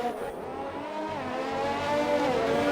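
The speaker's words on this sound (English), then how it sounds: "As he's still fighting with the Ferrari of Blink." Race cars in an Xbox racing game at the Hungarian Grand Prix drone with a sustained engine whine that rises gradually in pitch and loudness, a continuous close roar with no voices.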